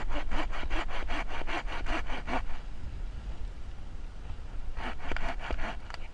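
A Bahco Laplander folding saw cuts through a standing tree outdoors with steady, close, rhythmic back-and-forth strokes, pausing midway before a fresh run of rasping strokes resumes.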